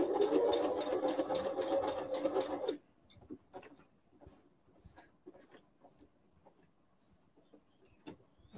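A tailor's sewing machine stitches fabric around a collar lining in a loud, fast, buzzing run of close stitches for about three seconds, then stops, leaving only faint handling clicks and rustles.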